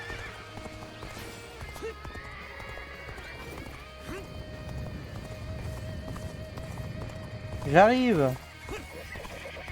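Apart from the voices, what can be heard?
horse neighing and galloping in video game Dynasty Warriors Origins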